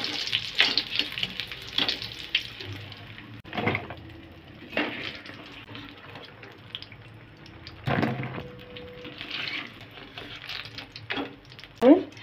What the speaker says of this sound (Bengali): এখন আমি বাকি লাউয়ের সবগুলো একইভাবেই ভেজে নেব।